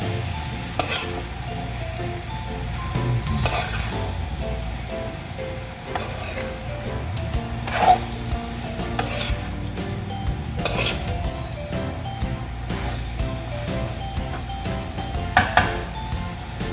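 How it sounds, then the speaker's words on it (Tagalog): A salmon fillet sizzles steadily in a hot pan with occasional clinks and stirring ticks, no talking over it. "So, igasa din natin yung ating salmon"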